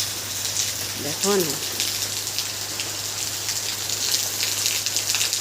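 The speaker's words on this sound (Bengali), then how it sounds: "আবার যেই তো সেই দেখো আবার বৃষ্টি হচ্ছে" Steady rain falls and patters on surfaces close by, a continuous hiss throughout, with a short spoken phrase and a brief voiced call early on over the downpour.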